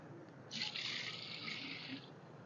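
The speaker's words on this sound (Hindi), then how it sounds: "मग इसमें डाल दूंगा, 6 लीटर पानी चला जाएगा।" Water pours steadily into a container while a mustard cake fertilizer solution is mixed for plants, a continuous hissing stream running about a second and a half against a quiet background.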